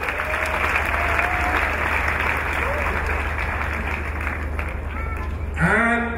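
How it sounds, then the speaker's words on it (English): A hall packed with delegates from 150 schools at a 2018 awards ceremony breaks into steady, dense applause that fills the whole stretch, with some voices and cheers rising near the end. "So a round of applause to our 150 schools."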